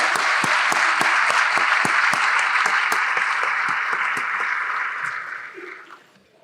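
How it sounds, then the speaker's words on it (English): An audience at a city address gives a sustained round of applause, dense and steady, with a few sharp nearby claps standing out before the clapping fades away. "it warrants another extended round of applause"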